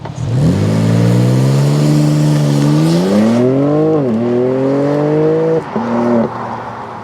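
An all-wheel-drive BMW M3 Competition xDrive launches hard under launch control, its engine roaring loudly as it climbs through the revs, with quick gear shifts heard as sharp dips and rises in pitch.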